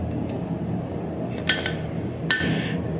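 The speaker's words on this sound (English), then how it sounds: "And I'm using a little hammer." A small square-faced hammer of about one and a half to two pounds strikes metal on the side of an anvil, giving a few sharp ringing clinks over a low workshop hum.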